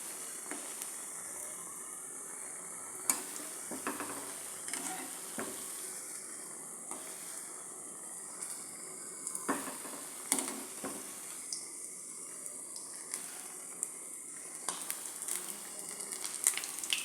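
Ripe nendran banana snacks frying in oil over a medium flame, a continuous bright sizzle with intermittent scrapes and taps as pieces are turned one by one.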